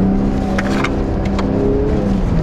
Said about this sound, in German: Er kommt im dritten Gang hier hoch, der Wagen.